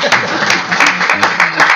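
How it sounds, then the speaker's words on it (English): Applause from a school finance symposium audience, continuous clapping with a few sharper hand strikes standing out, close and moderately loud for a brief moment. "You may applaud if you wish."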